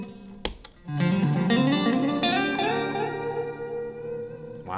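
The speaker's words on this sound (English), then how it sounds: "try just a little delay just to see how it does." Guitar played through a Meris MercuryX reverb pedal with a little added delay: a sharp attack, then sustained, swelling chords and notes smeared into echoing repeats and a lush reverb tail, loud and alone with no talking.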